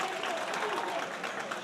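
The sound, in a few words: pro wrestling crowd clapping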